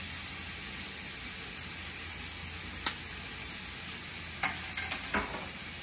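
Ingredients in an oiled pan give off a steady frying sizzle, with a few faint scrapes and taps of a utensil stirring near the end.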